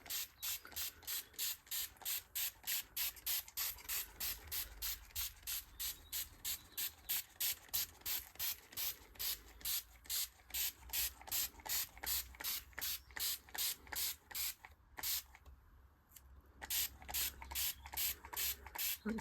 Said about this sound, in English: Don't want to get this wet, but just a bit more spray.